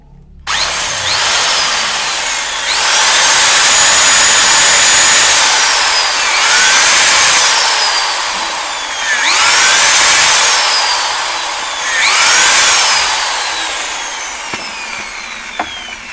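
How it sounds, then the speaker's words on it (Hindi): A power drill bores into a hammer head in four long, loud grinding passes, its whine swelling and easing with each push, separated by short lulls. "और अभी जो हथौड़ी है इसके अंदर छेद कर देते हैं।"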